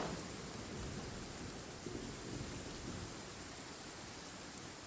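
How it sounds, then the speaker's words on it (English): Steady rain and low rumbling thunder in the Genshin Impact video game, a constant hiss of falling rain with soft distant rolls beneath, fairly quiet and unbroken, with no voices. "I'm used to the rain, but you should probably use an umbrella."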